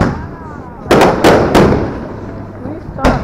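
Fireworks go off on the 4th of July, with three sharp bursts close together, then a gap and one more loud pop, against outdoor background noise.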